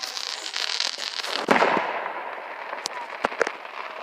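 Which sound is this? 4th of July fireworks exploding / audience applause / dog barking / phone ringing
4th of July fireworks exploding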